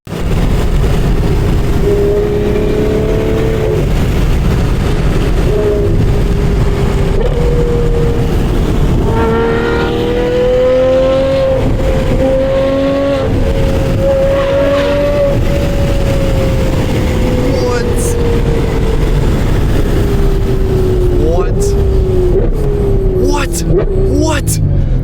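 A 2021 Ferrari 812 GTS with straight pipe exhaust rumbles loudly throughout, its note rising through the gears and then dropping in a run of downshifts toward the end, with people talking excitedly over it.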